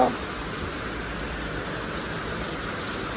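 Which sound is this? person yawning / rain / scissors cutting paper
rain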